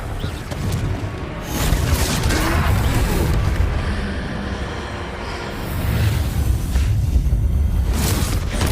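A Confringo blast spell bursts in the Hogwarts Legacy video game during a troll fight, giving booming explosive impacts and whooshes over a rumbling, sustained din.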